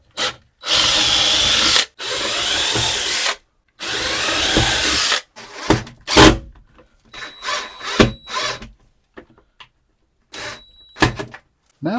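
A power drill drives screws to mount a MaxAir dome fan into a camper wall: three long, loud, close whirring bursts, then scattered knocks, clatter and brief mechanical rattles with pauses between.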